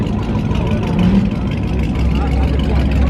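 A Dodge Hellcat rumbles past at an early-morning car meet, its low engine note swelling and fading amid crowd noise, with people talking over it nearby.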